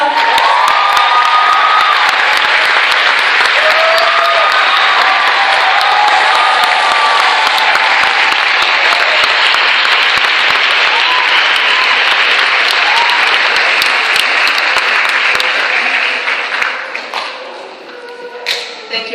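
Sustained loud applause from a graduation audience honoring school staff in Queens, dense clapping with some cheering and children's shouts, steady throughout and tapering slightly near the end.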